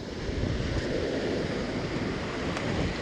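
Waves breaking on a beach under a light offshore northwest wind, a steady broadband roar of surf with wind rumble on the microphone, continuous and fairly close, no voices.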